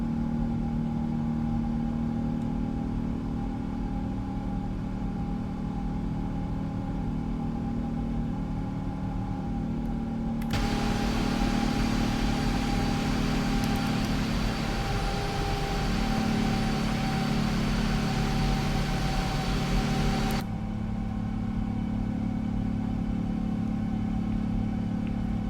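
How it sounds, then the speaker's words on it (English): Air France Boeing 777-200ER engines in climb, simulated in Flight Simulator 2024: a steady broadband jet roar with low rumble that swells into a louder, brighter rush for about ten seconds in the middle, then settles back to a constant drone. "the engines are down in climb thrust"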